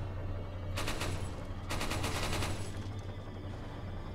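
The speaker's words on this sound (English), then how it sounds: "No, I shot the fucking torch" Gunfire in Resident Evil 4 on the Wii, two loud rapid bursts of shots separated by a short pause, with a low steady hum underneath.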